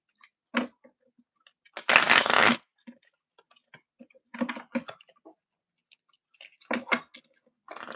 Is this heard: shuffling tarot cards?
yes